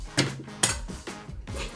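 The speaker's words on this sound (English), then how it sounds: "Into the cup by flipping the spoon." A spoon flipped into a cup during a Minute to Win It style party challenge: two or three close, bright clinks and clatters of metal on dishware, spaced apart with quieter handling noise between, no talk.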